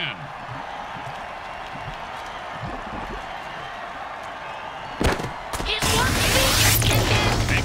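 Crowd noise at an American football video game touchdown, a steady stadium roar throughout that swells louder and brighter near the end as the crowd cheers, with a sharp hit or crash midway.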